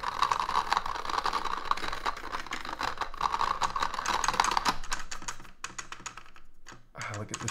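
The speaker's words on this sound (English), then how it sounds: "I also think this keyboard chatters." A mechanical keyboard with rattling stabilizers is typed on rapidly, a dense close clatter of keystrokes with occasional rattly larger keys, thinning out toward the end into a few separate clicks.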